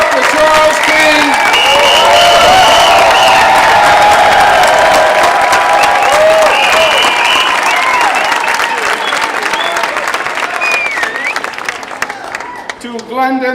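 Sustained, loud applause from an audience at an LGBT Center event for ending the epidemic, dense clapping with scattered cheers and whoops that thins and fades in the final seconds.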